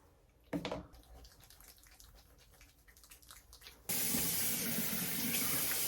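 Bathroom tap running while someone rinses their face, quiet handling and splashing at first, then a sudden loud steady rush of water from the faucet.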